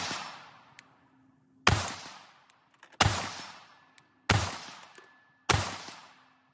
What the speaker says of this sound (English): that was 5 rounds, all hit steel